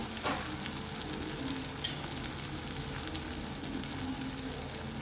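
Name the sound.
coriander and turmeric frying in oil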